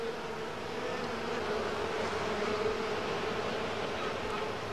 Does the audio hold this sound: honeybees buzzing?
yes